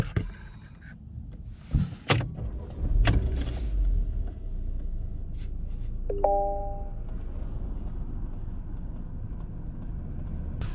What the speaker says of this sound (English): Just before I started making this video, I actually got a low fuel warning.